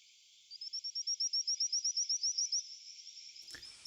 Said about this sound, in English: So these are frogs that are making this sound.